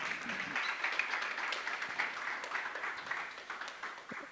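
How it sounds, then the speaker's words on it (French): An audience applauds at a launch ceremony for a games souvenir magazine, a quiet, continuous patter of many hands lasting several seconds at a distance. "sous vos applaudissements."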